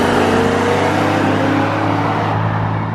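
BMW M3 at a street car meet revving loudly and close, a steady roaring engine note held for about three seconds with crackling exhaust character.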